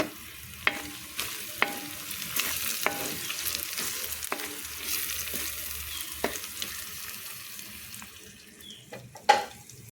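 Fish fries in a pan with a sprig of curry leaves added, giving a continuous close sizzle broken by repeated scraping stirs and light utensil taps against the pan, with no voices.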